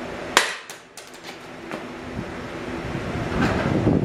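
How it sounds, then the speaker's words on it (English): A hammer strikes a bolt against the steering knuckle of a Jeep Wrangler to free a corroded, rusted-in hub bearing, giving one sharp metallic clank followed by several lighter taps in a workshop. "Just hit on the knuckle, each side."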